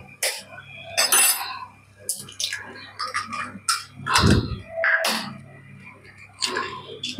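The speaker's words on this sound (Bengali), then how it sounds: "ততক্ষণে আমি এখানে 2টো ডিম ফেটিয়ে রেখে দিই।" Two eggs beaten in a bowl with a utensil, giving irregular clinking and scraping strokes, close by, mixed under steady talking.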